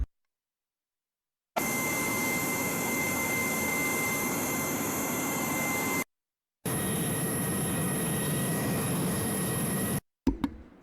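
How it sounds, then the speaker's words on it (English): AI-generated jetpack thrust effect: a steady, loud jet-engine roar with a high whine, running about four seconds, cutting out briefly, then resuming before stopping abruptly. "jetpack thrust was the next prompt"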